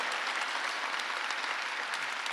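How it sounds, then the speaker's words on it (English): A crowd at a children's museum event applauds Councilwoman Parker with brief, busy clapping from many hands, steady and fairly close throughout. "let's give Councilwoman Parker a big round of applause"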